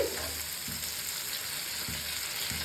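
Chopped onion frying in a pan alongside capsicum makes a steady, fairly quiet sizzle with faint crackles, heard alone for a few seconds.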